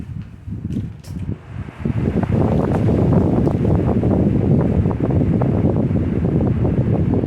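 A Lasko 18-inch remote control stand fan on speed 2 gives off a strong, steady whoosh of rushing air, close and fairly loud, after a few soft clicks and a brief quieter moment at the start.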